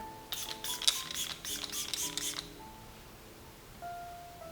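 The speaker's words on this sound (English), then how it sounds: "I'm just gonna spray my face with a setting spray" Several quick hissing spritzes of a makeup setting spray misted onto a face close by over a couple of seconds, followed by quiet room tone with faint background music.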